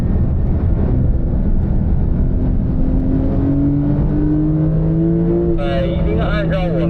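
Porsche accelerating on a race track in manual mode, its engine tone rising steadily in pitch, then dropping and climbing again through gear changes, loud and close with wind roar from inside the car.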